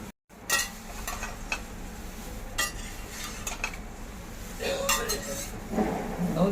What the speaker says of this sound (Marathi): चमच्याने घेतलं ना मग खालपासनं पोहे कसे वर आपण घेऊ शकतो